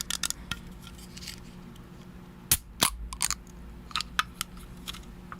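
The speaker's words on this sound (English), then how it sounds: "He's ready for some can opening ASMR" A drink can is cracked open close to a microphone, with a sharp snap followed by a second click and a short fizzing hiss, then a few small taps and crinkles over a steady low hum.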